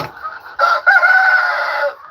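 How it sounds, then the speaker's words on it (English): A rooster crows nearby, one loud, drawn-out call that follows a few short clucks and then trails off. "They're getting awfully loud now that I've been getting the roosters out."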